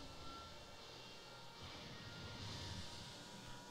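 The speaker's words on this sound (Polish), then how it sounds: "A samolot przyleciał, zniszczyć go." A steady, faint airplane engine drone in the video game Spore, a broad continuous rumble and hiss that swells slightly partway through, with no talk.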